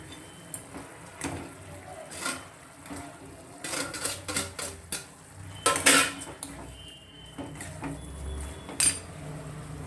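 A spoon stirs a fried eggplant mixture in a pan for badanekai gojju, giving repeated metallic scrapes and clinks against the pan in an irregular rhythm, close and clear with no talk.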